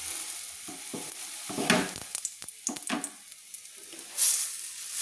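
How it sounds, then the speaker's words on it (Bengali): Prawn-head fritter batter dropped into hot oil in a kadai, a low, gentle sizzle broken by a few sharper spatters and bubbling bursts, fairly quiet throughout. "এইভাবে আমি বাটাগুলো আমি আস্তে আস্তে দিয়ে দেব কড়াইতে।"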